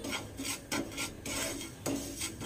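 Semolina being stirred and fried in melted ghee in a pan for gujiya filling, with three or four close, distinct scraping strokes of a spoon against the pan and a soft rasp between them.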